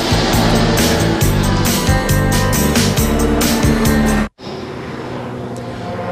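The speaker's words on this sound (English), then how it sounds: "We are on board with the number 51 Viper." On-board engine of the number 51 Viper race car at Le Mans in 1999, a loud sustained engine roar with pulsing shifts in pitch for about four seconds, then cutting abruptly to a quieter, more muffled rumble.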